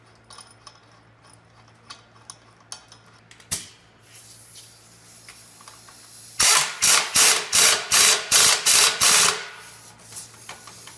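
A ratchet wrench clicks through a quick series of sharp, evenly spaced pulls while a crankshaft bolt is torqued to 90 foot-pounds, preceded by lighter tool clinks and taps, close up with no talking.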